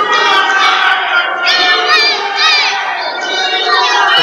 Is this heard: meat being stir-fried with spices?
no